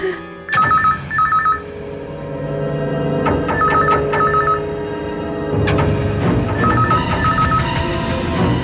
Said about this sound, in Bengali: আমি পুলিশে ফোন করছি